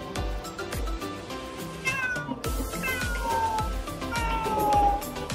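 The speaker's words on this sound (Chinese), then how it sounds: "你看，这是小猫" A kitten meows again and again at a crowded pet exhibition in Bangkok, its cries clear and close over a busy background hum of the hall.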